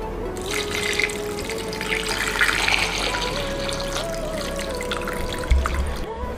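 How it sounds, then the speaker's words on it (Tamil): Running water and sloshing as a quarter kilo of potatoes is rinsed in a kitchen, with a steady trickle and light clunks of the tubers in the water, close by and continuous. "நல்லா கழுவி 2-3 டைம் எடுத்துக்கலாம்."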